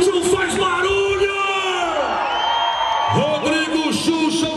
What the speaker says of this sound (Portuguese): Gostou, bate palmas. Quem curtiu, faz barulho.